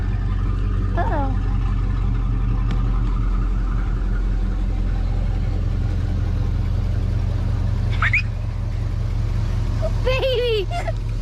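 A Ford Foxbody Mustang engine running at a steady low idle after starting, a constant deep rumble close by, with a few brief voice-like exclamations breaking in over it.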